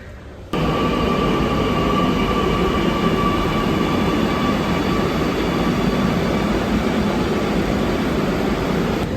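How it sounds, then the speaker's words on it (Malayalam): A train at a railway platform gives off a loud, steady rumble with a faint whine layered over it. It starts abruptly and holds almost unchanged for several seconds, with no talking. "2-ലാണ് നമ്മുടെ ട്രെയിൻ വരിക."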